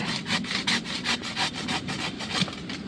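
A hand saw cuts through a branch of a lime plant in a garden: quick, regular back-and-forth rasping strokes, close and steady, with no talking.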